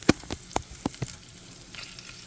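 Italian meatballs frying in a pan, with close, sharp sizzling pops and crackles arriving unevenly over a soft hiss and no voices.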